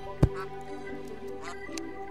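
A Terraria duck gives a short quack over steady game background music, followed by faint softer sounds.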